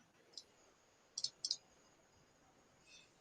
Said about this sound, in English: Then go to additional rules, then right click and select new path rule.